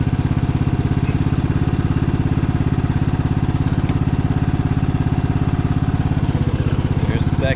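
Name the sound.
riding lawn mower engine running in first gear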